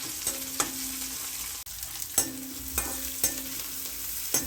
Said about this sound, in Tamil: கொஞ்ச நேரம் வெங்காயம் நல்லா வதங்கட்டும்.